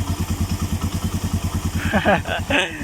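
A Suzuki GS motorcycle engine idles after a tune-up with an even, rapid low thumping pulse, close by, while someone speaks over it near the end.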